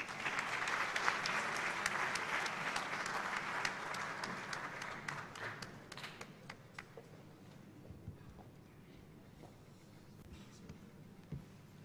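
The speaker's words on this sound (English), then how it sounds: "Please welcome Dr. Ensar Gul with a big round of applause." An audience at a ceremony applauds a speaker being welcomed, a broad wash of clapping that is strongest at first, then thins into scattered claps that fade away.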